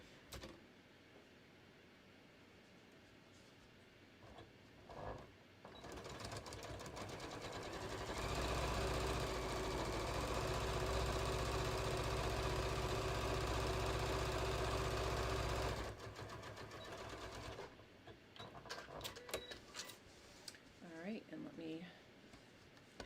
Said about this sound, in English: I'm going to sew right down this one